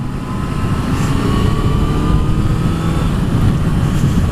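A Honda CB650F motorcycle accelerates slowly on the road, giving a steady, rough engine drone that rises gradually in pitch under constant wind noise.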